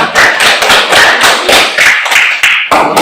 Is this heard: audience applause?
yes